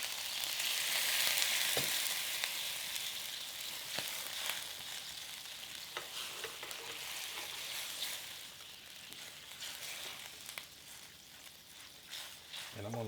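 BBQ shrimp glaze bubbles and sizzles as it cooks down in a pan for New Orleans-style shrimp, a steady close frying hiss with occasional light clicks and stirring taps.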